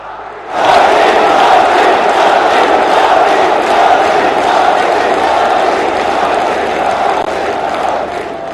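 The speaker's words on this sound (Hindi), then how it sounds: "एक बार दोनों हाथ ऊपर उठा के तालियां बजा के स्वागत कीजिए" A large crowd greeting Prime Minister Modi at the Mahakal Corridor inauguration in Ujjain bursts into loud, sustained cheering and shouting that swells suddenly and holds steady, with possible applause mixed into the roar.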